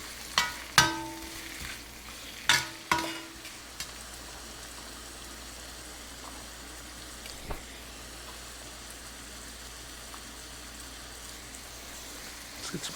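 Mushrooms hitting a hot pan for a chicken stir fry, with a few sharp clatters and stirring scrapes at the start, then a soft steady sizzle that carries on underneath with occasional small knocks.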